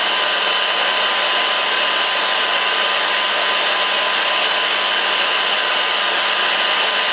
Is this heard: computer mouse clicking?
no